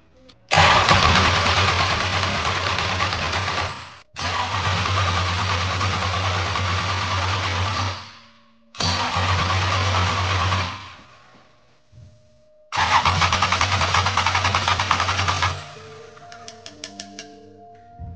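A 5.7 V8 engine with a distributor fault is cranked over in four long, loud bursts separated by short silences, the starter churning without the engine catching.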